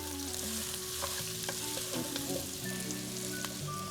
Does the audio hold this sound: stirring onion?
yes